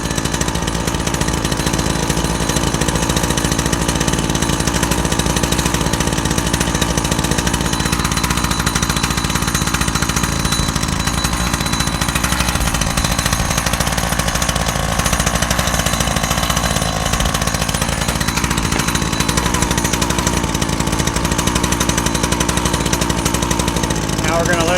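A small gasoline engine on summer yard equipment, prepared for winter storage, runs steadily and loudly throughout with a constant buzzing drone, its pitch dipping briefly midway before recovering.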